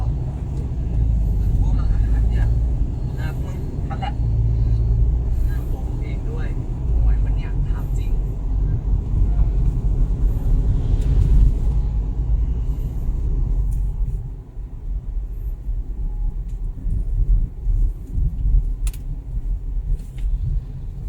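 A 2013 Mazda CX-5 is driven, and a steady low rumble of road noise fills the cabin throughout, loud and continuous, with a slight dip partway through.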